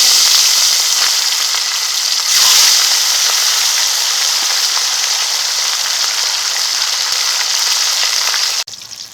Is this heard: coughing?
no